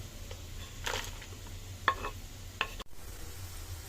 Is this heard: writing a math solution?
no